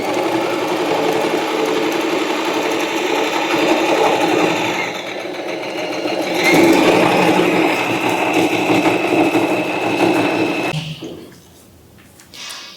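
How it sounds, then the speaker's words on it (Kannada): A Singer sewing machine stitches steadily for about ten seconds, a close, continuous mechanical whir whose pitch shifts partway through before it stops and leaves near silence. "ನಾನು ಫಸ್ಟ್ ಟೈಮ್ ಸ್ಟಿಚಿಂಗ್ ಹಾಕಿರೋದಿದು"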